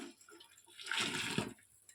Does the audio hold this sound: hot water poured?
yes